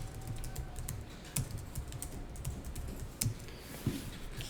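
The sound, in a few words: typing on a computer keyboard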